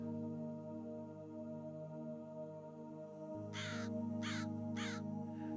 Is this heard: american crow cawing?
yes